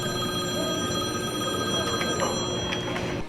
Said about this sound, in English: You just sit down for dinner with your family and the phone rings.